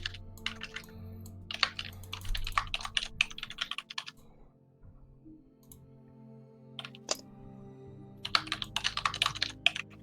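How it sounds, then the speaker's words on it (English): Computer keyboard typing picked up on a microphone during an online tabletop role-playing session, heard as bursts of rapid, close clicking keystrokes separated by quieter pauses over a low background hum. "You're typing."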